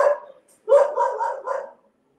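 A dog barks twice, a short bark followed by a longer run of barking, fairly close and loud, with a quiet pause between.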